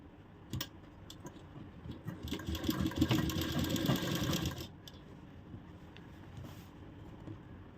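A sewing machine double-stitches the crotch seam of a pair of pants, a close, quiet run of rapid whirring stitches lasting a couple of seconds between faint clicks and handling sounds, with no talking.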